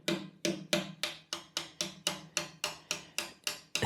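Hammer blows on a center punch against a Lambretta Li150 Series 2 scooter part in a garage, about thirteen sharp metallic strikes at a steady, even rhythm, close and clear with no talking.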